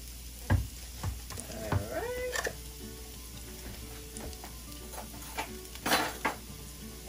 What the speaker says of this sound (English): Saute our beautiful onion.